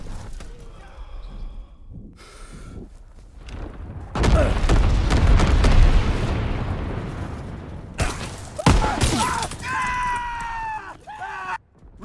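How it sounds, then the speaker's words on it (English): Incendiary bombs explode in a Call of Duty WWII battle, a loud rumbling blast swelling in and trailing off, followed by a second sharp burst, with scattered game sounds and voice callouts around it. "Enemy bomber approaching. Incendiary bombs incoming."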